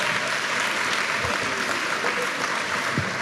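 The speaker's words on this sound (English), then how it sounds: "That's why they're all clapping now." Audience clapping in steady, full applause with a few louder individual claps standing out, continuous and fairly loud.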